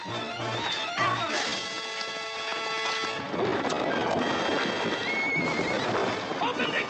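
Horses neigh and whinny while hooves clip-clop amid a tense chase scene near a Spanish California mission, with shouting voices over the dense, busy commotion throughout.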